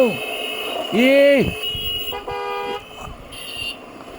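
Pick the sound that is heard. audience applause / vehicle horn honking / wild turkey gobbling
vehicle horn honking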